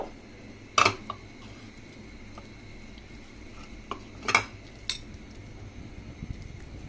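A utensil presses and mashes a boiled potato in a bowl, with a few sharp metal-on-dish clinks standing out over soft, quiet squishing close by.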